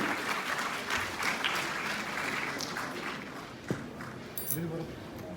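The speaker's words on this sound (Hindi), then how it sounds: "तालियों की गूंज के बीच हमारे समाज के प्यारे प्यारे सदस्यों का हम मंच पर स्वागत करें" Crowd applause fills a World AIDS Day celebration in Jammu as community members are welcomed onto the stage: a steady, dense wash of clapping with murmuring voices, carrying on evenly with a few louder claps near the end.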